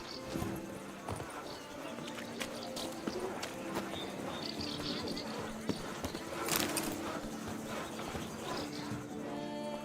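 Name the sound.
horse Roach galloping in video game Witcher 3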